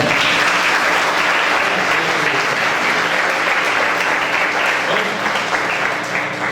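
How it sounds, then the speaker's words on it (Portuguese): Congregation at Igreja Pentecostal da Bíblia in Ribeirão Pires applauding a visiting brother, loud sustained clapping from many hands with voices faintly mixed in, tapering slightly at the end. "Aplaudir Jesus pela vida do nosso irmão."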